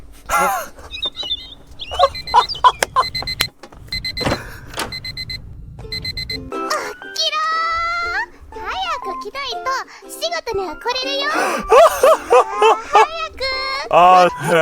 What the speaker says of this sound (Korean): 새 지저귀는 소리가 들리는 게 너무 웃김